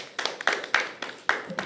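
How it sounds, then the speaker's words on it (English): Scattered hand claps from a small audience at a World Cup qualifier game session in Dublin, about half a dozen separate claps spaced out, close and fairly sparse rather than a full ovation. "Round of applause for player number 9."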